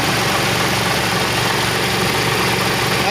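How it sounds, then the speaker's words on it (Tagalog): Car engine with a hard-starting fault idling roughly and misfiring, a steady close mechanical drone with uneven low pulsing throughout, no voices. "Hard starting pa yung makina niya. Medyo manginig pa, medyo manginig. So parang hindi siya, parang palyado, parang."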